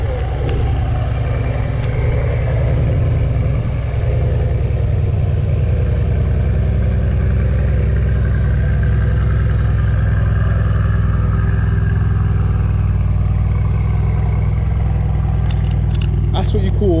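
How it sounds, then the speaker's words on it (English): A Mercedes C63 with a 4-litre V8 biturbo settles into a loud, deep, steady cold-start idle close by, a low rumbling drone that holds throughout, with a brief crackle near the end and voices mixed in. "That's what you call a proper cold start."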